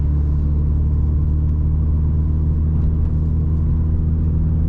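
Cars on a road make a steady, loud, low rumble of engine and tyre noise that holds evenly throughout, with no voices.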